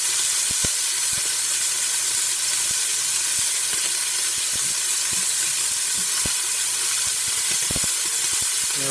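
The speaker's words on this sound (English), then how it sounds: "I'll finish searing off all the rest of the meat" Meat searing in a hot pot gives a steady, loud sizzle throughout, with scattered sharp pops and crackles and no voices.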